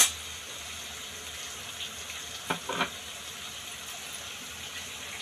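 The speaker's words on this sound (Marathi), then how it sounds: "थोडंसं पाणी ह्यामध्ये ॲड करून घेऊया" Water poured into a simmering paneer masala curry, a faint, steady trickling wash with a couple of small splashy bursts near the end.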